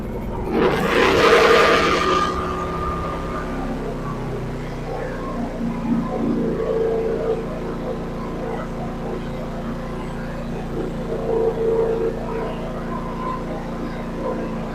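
A Harbor Freight Predator 9500 portable generator cranks with a loud burst, then settles into a steady, moderately loud engine drone that continues to the end.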